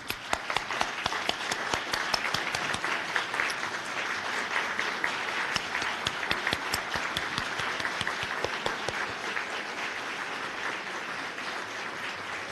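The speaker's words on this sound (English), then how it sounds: "give another round of applause" A large audience claps steadily in sustained applause for city staff at a city address, a dense wash of many hands throughout with no talk.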